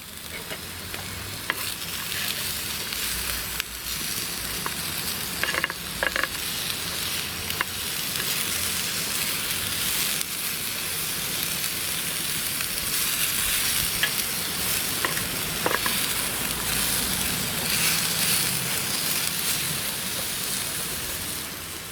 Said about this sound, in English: let's just give the onions a little bit of a stir about.